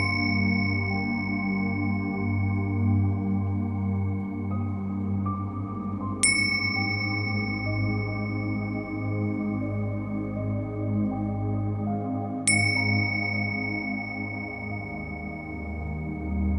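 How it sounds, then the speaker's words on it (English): Meditation bells ring out clearly twice, about six seconds apart, each strike bright and sustained, its tone lingering and slowly fading over a steady low hum. "As you hear the sound of the bells, take your seat."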